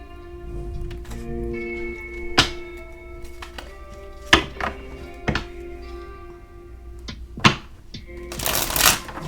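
Tarot cards are shuffled and riffled in sharp bursts of flicking and tapping, with a few distinct thumps and a longer crisp riffle near the end, close and clear.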